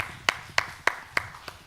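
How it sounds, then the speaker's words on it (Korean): Five evenly spaced sharp claps ring out alone at a lecture hall health talk, sounding more like a single pair of hands than a full audience, moderately close with quiet room tone between. "여러분도 꼭 여기까지 가시게 되기를 박수 한번 하시고요"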